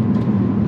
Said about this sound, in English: when you pull out into the road in this car